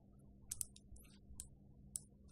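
Computer keyboard shortcut presses and mouse clicks during a 3D modeling tutorial, heard as a handful of sharp, faint, irregularly spaced clicks over a quiet background hum.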